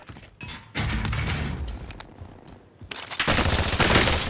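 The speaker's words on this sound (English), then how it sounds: "I'm getting shot at" Heavy gunfire directed at the player in a shooter video game erupts in dense, loud bursts of rapid shots, pausing briefly before a sustained volley resumes and builds toward the end.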